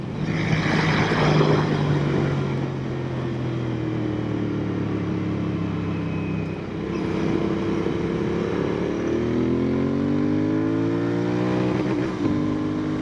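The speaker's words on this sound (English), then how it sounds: "That is a rev limiter." A Royal Enfield Continental GT 650 motorcycle engine revs hard on an open road and bounces off the rev limiter, its droning exhaust note climbing and stuttering in rising harmonics under steady wind rush, with no talking.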